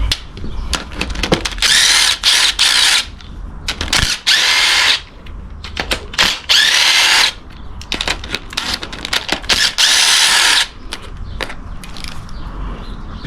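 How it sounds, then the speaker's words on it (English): A ratchet spins off 10 mm valve cover bolts on a 1995 Toyota Tacoma 2.7L four-cylinder engine during a rebuild, giving loud, close bursts of rapid clicking separated by short pauses and single clicks. "now get started on removing the valve cover. They're just 10 millimeters."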